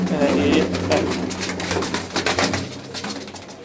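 Several Salara pigeons coo together at close range, a continuous soft rolling murmur, with faint voices around them.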